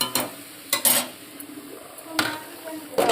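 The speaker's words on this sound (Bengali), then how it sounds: "একটা তরকারি ফুটে উঠেছে, আর এদিকে ভাজাটা হচ্ছে" A curry bubbles on the stove while food fries in a pan nearby, a low background sizzle cut by repeated sharp clinks and scrapes of a utensil against cookware, with no talking.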